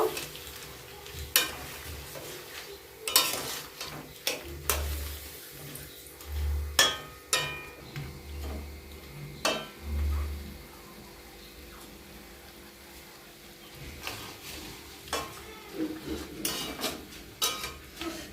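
Prawns stirred in mustard sauce in a pan: irregular spatula scrapes and knocks on the pan over a faint sizzle, with several soft low thumps in the middle, close and fairly quiet, no talk.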